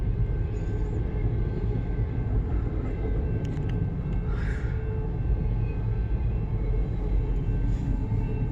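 A CN freight train gathers speed in Port Huron, Michigan, giving off a steady, continuous low rumble and rolling wheel noise, with faint metallic squeals and clanks on top.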